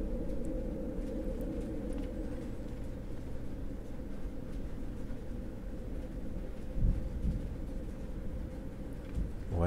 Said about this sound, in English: I can hear the thunder going out there